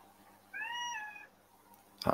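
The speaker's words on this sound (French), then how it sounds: "j'ai entendu aussi un chat" A cat gives one clear, drawn-out meow in a quiet indoor room, followed by a brief sharp knock.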